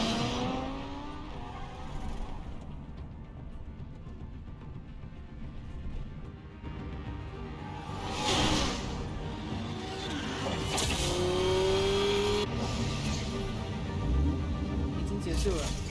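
Car engine driving and revving in Batman: The Telltale Series, with steady road rumble, rising acceleration and a short screech, mixed under game dialogue and shouting.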